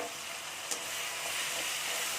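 A paste of onion, ginger, garlic and green chili fries in a pan as a steady, hissing sizzle, with one brief stir knock near the start, quiet and close, with no voices.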